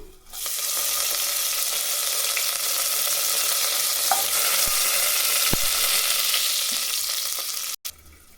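Curry leaves and fennel seeds tempering in hot oil, a loud continuous hissing sizzle close by with a few soft knocks, ending abruptly, no talk.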